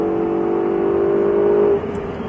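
A Ferrari 488 GTB engine roars at full throttle with a steady rising drone, loud and close, then drops sharply in pitch as the gear shifts near the end.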